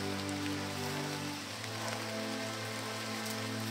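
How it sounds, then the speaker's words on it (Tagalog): Heavy rain pours steadily onto a surface outdoors with a dense, even wash of drops and a low hum underneath, continuous for the whole stretch. "Malakas naman yung ulan tol"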